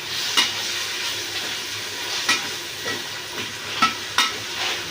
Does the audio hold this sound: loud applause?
no